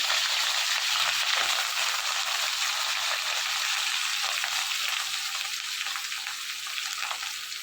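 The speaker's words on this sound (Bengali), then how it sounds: "একটু ভালো করে ভেজে নেব।" Dried fish and garlic frying in hot oil, giving a loud, close, continuous hissing sizzle that holds steady throughout with faint scraping stirs near the beginning.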